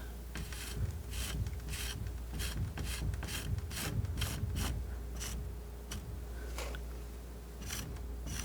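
A palette knife flattens and smooths paint on canvas in close, soft scraping and rubbing strokes, repeated in an uneven rhythm, quiet and with no voice.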